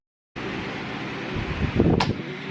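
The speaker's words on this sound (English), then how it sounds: "it's hot in this room and I gotta have a fan blowing" An electric fan blows steadily in a hot room, a constant broadband whoosh close to the microphone, with a brief rustle or bump near the end.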